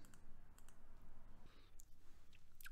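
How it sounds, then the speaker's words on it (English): Two quick computer mouse clicks while working in Photoshop, faint and close in a quiet room, with light clicking ticks. "Left click twice."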